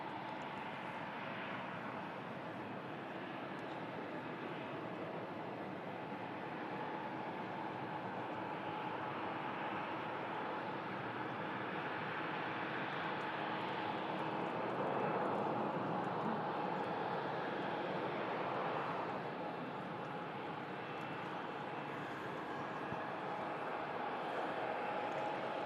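A KLM Boeing 737 arriving from Schiphol lands on the second runway at Manchester Airport, giving a steady, distant jet roar that swells slightly midway and holds without any talk.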